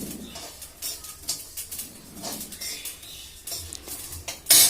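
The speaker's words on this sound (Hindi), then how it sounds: "इसमें से धुआं निकलने लग रहा है और इसमें से आवाज़ भी आने लग गई है चटकने की" Light, irregular crackling and popping from sesame seeds roasting in a pan, with scattered sharp ticks and faint scraping, fairly quiet and close.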